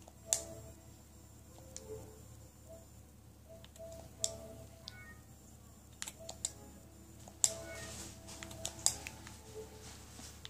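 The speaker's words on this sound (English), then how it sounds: "just type in Mike Small, or you can just type in Faber My Saber" Typing on a computer keyboard indoors, heard as scattered, faint key clicks and occasional sharper taps in an irregular rhythm over a quiet room hum, with no talking.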